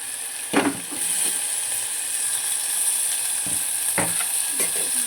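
Tomatoes sizzle and hiss steadily in a frying pan while a spoon scrapes and stirs in a few sharp bursts, close up and with no talk.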